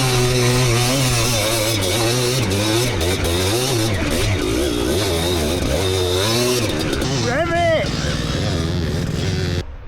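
A Stark Varg electric motocross bike, rated at 80 hp, revs hard while stuck in the dirt, with a rising and falling motor whine in repeated surges, loud and close, mixed with voices and engine-like roaring.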